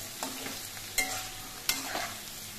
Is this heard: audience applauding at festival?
no